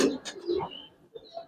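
A young Giribaz pigeon coos up close in a few short, soft throaty bursts, followed by a brief pause and a faint final note.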